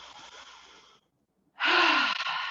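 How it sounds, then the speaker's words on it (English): A full breath drawn in through the nose and then let out through an open mouth during a gentle breathing exercise, a soft inhale, a brief pause, then a louder, breathy exhale, with no talk. "So full breath in through the nose and out through an open mouth."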